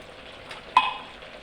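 Spicy sardines with vegetables stirred in a frying pan: a soft, steady sizzle with a single sharp utensil clink against the pan, close by and brief, with no talking.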